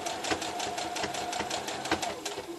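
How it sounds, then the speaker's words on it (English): A sewing machine back stitches a tea towel, its needle chattering in a fast, even, rhythmic clatter that runs steadily at moderate loudness throughout. "I am going to back stitch this at the top though"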